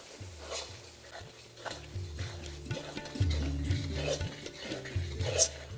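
Close spoon stirring of chicken with turmeric and Kashmiri chilli powder in a pan for chicken kosha, steady scraping strokes with a faint sizzle beneath and occasional metal clinks.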